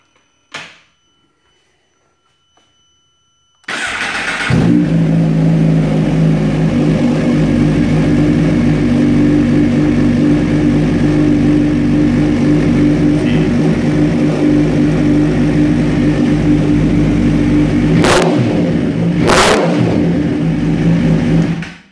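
A 2017 Suzuki GSX-R1000 motorcycle with a Brock's Pentacarbon full exhaust system starts up with a sharp crack, then idles loudly and close with a deep steady rumble, blipped briefly near the end, no talk.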